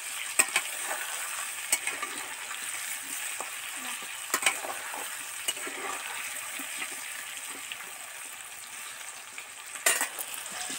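Potatoes deep fry in oil for Bengali echor kalia, giving a soft, steady sizzle with occasional sharper clicks from stirring and a brief louder clatter near the end, no voices.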